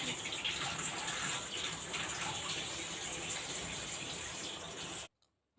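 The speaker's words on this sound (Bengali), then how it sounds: "তো চলো ঝটপট করে চিকেনটা ধুয়ে নিই" Raw chicken being washed under running tap water, a steady close gush and splash of flowing water that stops abruptly near the end.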